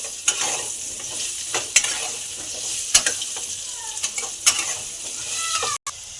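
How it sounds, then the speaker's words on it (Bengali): Potatoes fry in hot oil in a pan, giving a steady close sizzle broken by a few scraping stirs of a spatula, with no talking over it. "তেলে দিয়ে আমি আলুগুলো দিয়ে দেবো। আলুগুলো আমি ভেজে নেব।"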